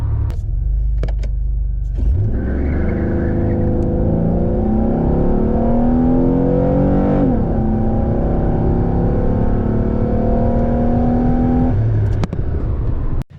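A car with an enlarged throttle body idles, then pulls hard from standstill toward 60 mph, engine tone climbing steadily through a gear change before easing off near the end, loud and continuous throughout.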